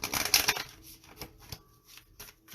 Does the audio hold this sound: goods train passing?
no